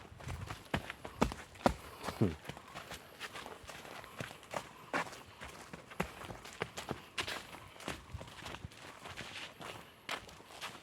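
Footsteps crunch along a dusty forest trail, a steady series of close, uneven scuffs and thuds that vary in loudness as the walkers move on.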